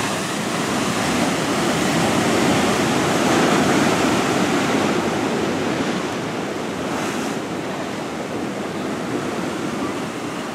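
Ocean surf breaks steadily on the shore at Torndirrup National Park near Albany, Australia, a continuous loud roar of waves mixed with wind buffeting the microphone, with no voices.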